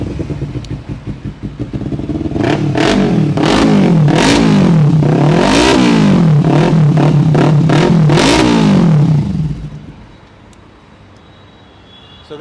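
A 2018 superbike fitted with a Leo Vince aftermarket exhaust fires up and revs hard in repeated loud, rising bursts at close range, then drops back to a low idle.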